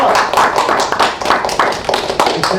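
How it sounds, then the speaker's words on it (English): Steady round of applause from a small meeting audience, dense overlapping hand claps filling the room at close range, with no voices breaking through. "round of applause"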